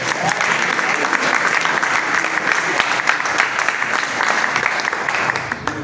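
A church congregation applauds loudly for Gabriela, a sustained wash of many hands clapping at close range throughout.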